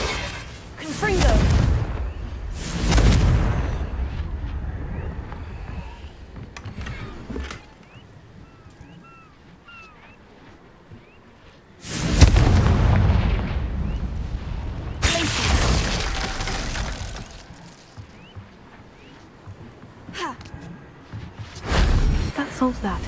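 The Confringo fire spell in the Hogwarts Legacy video game sets off loud booming explosions in several big bursts spread across the stretch, with quieter rumbling and a speaking voice in the gaps between them.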